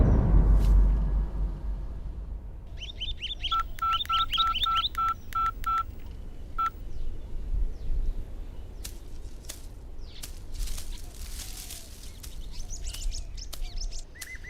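A rapid series of electronic touch-tone beeps as a phone number is dialed, over a low background rumble, followed by scattered clicks and faint chirps.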